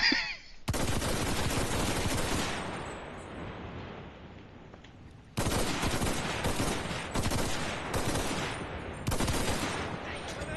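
Bursts of full-auto assault rifle fire in the World War II shooter game Enlisted, loud and close, with a long burst trailing off into reverberation before several more rapid bursts resume.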